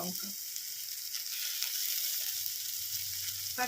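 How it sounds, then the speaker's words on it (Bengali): Prawn heads fry in a hot pan, giving a steady broadband sizzle that runs close and continuous for a few seconds, with brief clatter at the start and end and no speech. "প্রথমে চিংড়ি মাছের মাথাটা দিলাম, ওটাকে ভালো করে কুক করব, ফ্লেভারটাও এসে যাবে।"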